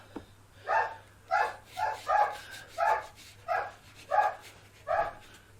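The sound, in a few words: dogs barking, wanting to go out for a walk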